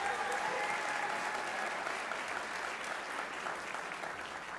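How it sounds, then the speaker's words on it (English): A school concert audience applauds the fifth grade band on stage, a dense steady wash of many hands clapping that stays loud and even throughout. "Let's give a huge round of applause to these guys."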